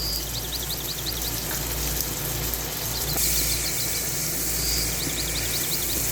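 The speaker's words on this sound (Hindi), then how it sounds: "अब इसको अच्छे से मिक्स कर लेंगे।" Spices such as turmeric, salt, garam masala and red chili powder are stirred into a Lahori mutton karahi, giving a constant hissing sizzle with soft stirring scrapes, while faint repeated bird chirps sound in the background.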